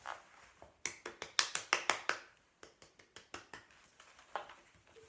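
A lone pair of hands claps in short, uneven bursts of sharp slaps, a quick flurry in the middle, then a slower scattering of claps trailing off, close and dry.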